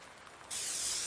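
A spray can marks a tree in Farming Simulator 19, a sudden loud hiss that starts halfway through and continues steadily to the end.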